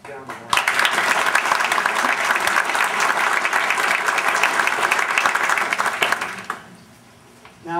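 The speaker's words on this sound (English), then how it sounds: "I think they deserve a round of applause" Sustained applause from an audience at a town comprehensive plan public presentation, steady dense clapping for several seconds that tapers off near the end, with faint voices mixed in.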